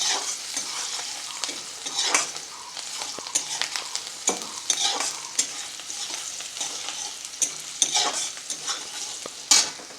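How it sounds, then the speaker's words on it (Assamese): Onion frying and being stirred in a pan, a close, continuous sizzle broken by repeated scraping strokes of a spoon, with no talking. "তাৰপিছত পিঁয়াজটো ভাজি ল'লোঁ।"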